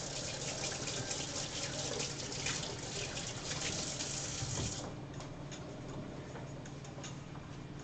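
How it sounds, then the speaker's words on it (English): Hands are washed under a running kitchen tap, a steady close hiss of flowing water that softens slightly partway through, with no talk. "Alright, now I'm washing my hands."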